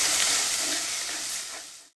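Masala with turmeric sautéing in a pan, the base for a Chettinad chicken gravy, gives off a steady, close sizzle and hiss that holds for a moment before cutting off abruptly.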